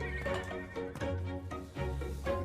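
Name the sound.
horses neighing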